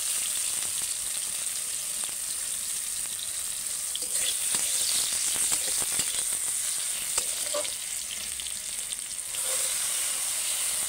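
Tomato and onion sizzle steadily in a hot pan while being stirred, a continuous close frying hiss broken by scraping strokes of the spoon, with no talking.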